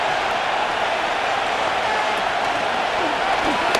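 Stadium crowd in the video game Madden NFL 25, Indianapolis Colts versus Denver Broncos, a steady dense roar of cheering, loud and unbroken, with faint talk mixed in.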